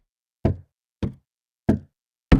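Synthesized hollow wood impact sound effect: four hollow wooden knocks, evenly spaced and distinct, each a short resonant thud with a quick decay, isolated against silence.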